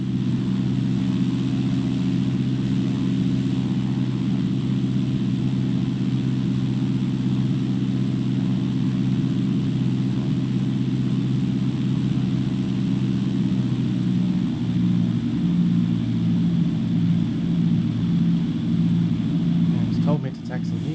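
Small airplane taxiing toward the runway, a steady droning engine hum heard from inside the cabin, unchanging and continuous with slight pulsing near the end.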